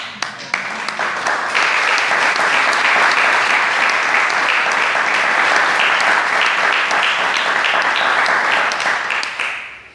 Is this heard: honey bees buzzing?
no